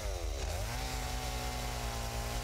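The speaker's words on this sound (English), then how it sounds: "No, I packed a chainsaw." A chainsaw in the Satisfactory video game revs up and then holds a steady, buzzing drone, loud and continuous throughout with no talking.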